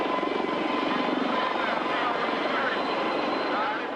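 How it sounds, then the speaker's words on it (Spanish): A helicopter's rotor and engine roar fill the space as it lifts off in a dramatic escape from a government building, a steady broadband drone mixed with voices and surrounding noise. "Ceausescu huyó en helicóptero."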